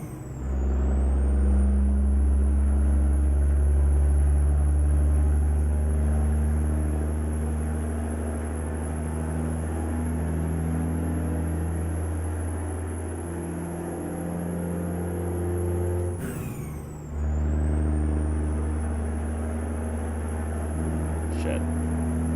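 A heavy 107,000-pound rig accelerates in American Truck Simulator with a loud, steady diesel drone and high engine whine. There is a brief shift dip partway through, and someone talks over it.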